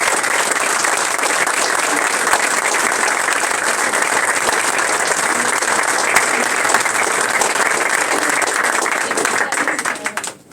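Loud, dense audience applause fills an official ceremony, a sustained roar of many hands clapping steadily before tapering off at the very end.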